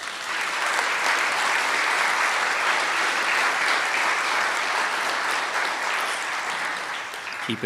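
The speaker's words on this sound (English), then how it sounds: "Let's give those guys a round of applause." Sustained round of applause from an outdoor Memorial Day ceremony crowd honoring veterans, dense and even clapping that holds steady before tapering slightly at the end.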